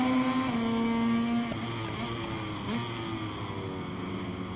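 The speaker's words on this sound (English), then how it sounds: "We rev the engine up." Steady engine drone with shifting harmonic tones from motorcycles revving on the starting grid in the racing game MotoGP 23, sustained and fairly loud with no talk.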